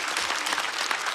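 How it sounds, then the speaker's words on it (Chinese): A studio audience at a stand-up comedy show applauds two comedians, a dense, even burst of clapping filling the short moment with no voice over it. "再次掌声送给徐浩伦、谭湘文"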